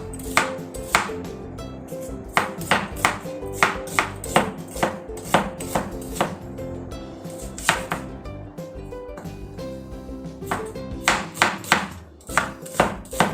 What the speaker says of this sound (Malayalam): ഇത് സവാള ഇങ്ങനെ വലിയ ഷേപ്പൊന്നും വേണ്ട, അങ്ങനെ മുറിച്ചിട്ടാൽ മതി.